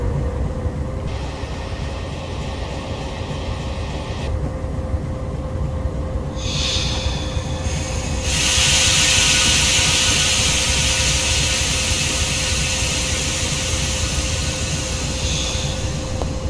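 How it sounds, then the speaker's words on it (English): Brakes on an MLW M420 locomotive in Train Simulator Classic give a sustained rumbling rail noise. Broad hissing air bursts start and stop, and a loud, continuous hiss swells midway and then holds. "Brake sounds aren't half bad."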